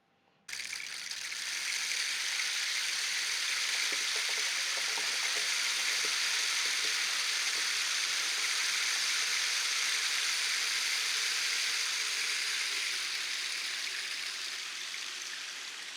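A cardboard rain stick releases a steady, hissing cascade of tiny rattling grains that starts abruptly and flows continuously, close and even in loudness.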